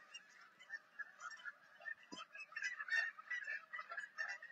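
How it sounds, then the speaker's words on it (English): A flock of geese at a park honking noisily and continuously, overlapping calls close by with no talk. "We got the geese over here tearing it up."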